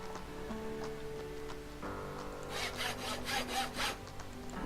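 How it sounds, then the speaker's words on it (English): A short burst of rhythmic sawing from the Minecraft Tinkers Construct 2 mod, about six quick back-and-forth strokes, comes in after a quiet stretch of low hum and faint tones. "Oh, it made a little sawing sound."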